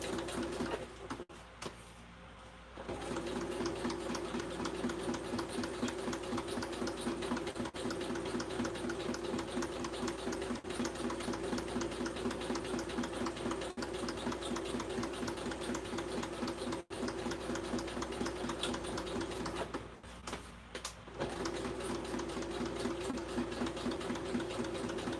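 A sewing machine stitches fabric in long continuous runs, its steady mechanical whir close and even, with brief pauses between stretches of sewing.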